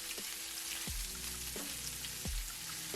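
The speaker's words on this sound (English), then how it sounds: "So right here I'm going in with my sliced onion." Sliced onion sizzles and sautés in a pan with a steady, faint crackling hiss, broken by a few low thumps about every seven tenths of a second.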